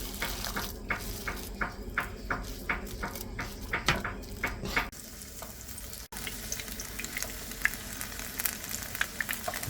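Coriander leaf fritters made with gram flour, green chilli, onion and black cumin frying in oil, a soft continuous sizzle with sharp rhythmic tapping in the first half, then a quieter steady crackle.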